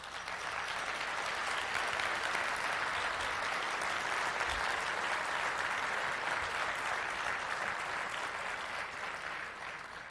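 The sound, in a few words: audience applause at awards ceremony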